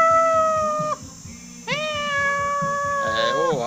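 A cat meows several times, drawn-out and close, with a steady background rhythm and some voices underneath.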